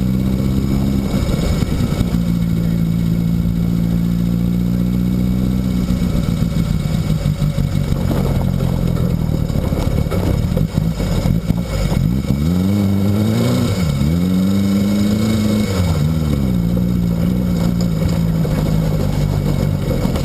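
Old-school dune buggy sand rail engine drones loudly while driving, its pitch holding steady and then rising and falling through several rev changes and shifts, with no voices over the motor.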